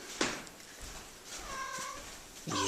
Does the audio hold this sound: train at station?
no